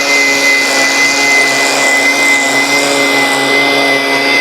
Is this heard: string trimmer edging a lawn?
yes